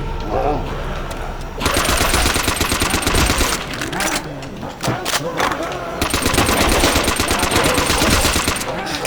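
Sustained machine gun fire from a World at War Zombies match, loud, dense bursts of rapid shots with brief pauses between volleys, a player talking over parts of the action.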